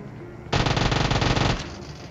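M249 machine gun in PUBG Mobile firing one loud sustained automatic burst of about a second, rapid and close, standing out sharply against quieter game background.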